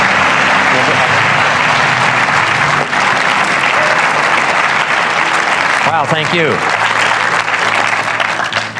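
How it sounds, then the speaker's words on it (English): A conference audience breaks into loud, sustained applause as a speaker returns to the stage, thick continuous clapping close by, with the speaker briefly voicing thanks over it near the end. "recognition and applause."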